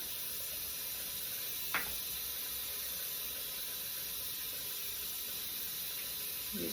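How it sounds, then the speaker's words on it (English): Tap water runs steadily into a sink while a makeup brush is rinsed, a continuous close hiss with a brief sharper splash partway through. "I'm gonna rinse it off."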